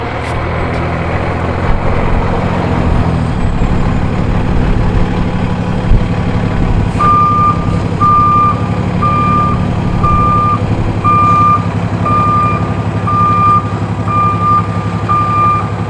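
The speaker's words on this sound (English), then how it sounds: "all day this beeping" A truck's reversing alarm beeps in a steady, evenly spaced series over the low rumble of an idling diesel engine, loud and close in a residential street in Porter Ranch, California.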